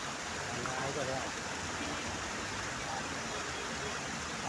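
A river in Quezon City flowing with a soft, even rushing hiss that stays constant and fairly quiet, like water heard from the bank at a short distance.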